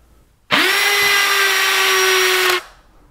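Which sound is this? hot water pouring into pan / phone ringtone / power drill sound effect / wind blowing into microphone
power drill sound effect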